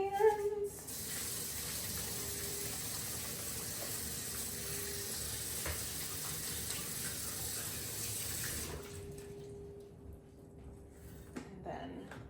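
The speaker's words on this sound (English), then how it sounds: "Wash my hands." A kitchen tap runs steadily while hands are washed under it, a continuous close water hiss that cuts off near the end, leaving a quieter room with a few small clinks.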